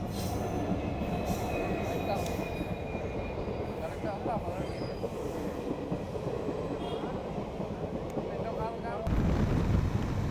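A train rumbles past a railway crossing continuously and loud, with a faint high squeal of wheels, swelling to a heavier roar near the end.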